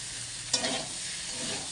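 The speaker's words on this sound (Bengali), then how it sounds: "এখানে হচ্ছে কুঁদরি আলু ভাজা, ভাজাটা প্রায় হয়ে যাচ্ছে, পেঁয়াজ আর টমেটো দিয়ে ভাজছি আর কি" Ivy gourd and potato frying in a pan with onion and tomato, giving a steady soft sizzle with a brief stir or clatter of the spatula midway, close and alone.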